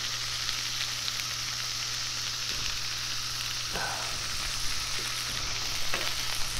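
Chicken wings frying in oil on a Blackstone griddle, a continuous close sizzle with scattered sharp pops and spatters, no talking.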